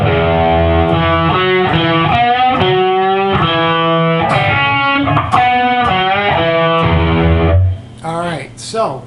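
Electric guitar playing the main verse riff of a song at full speed, distorted and continuous with steady chord and note changes, loud and up close, ending with a few brighter picked notes.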